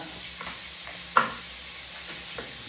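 Onion sizzles in a hot pan with a steady hiss, one sharp clack of the stirring utensil against the pan partway through, and faint scraping.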